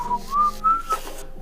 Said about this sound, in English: Whistle innocently.